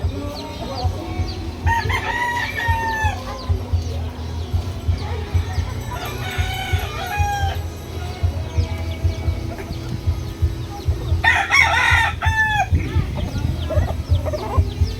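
Fighting roosters, including a yellow-legged one, crow several times at close range in Tanza, Cavite, with clucking chickens and a low background rumble throughout.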